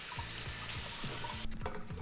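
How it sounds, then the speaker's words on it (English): A kitchen tap runs steadily while cooked greens are cooled under cold water for a sweet potato noodle dish, a constant close hiss of water that thins out toward the end, with faint low clicks underneath. "take it out and shock it under cold water"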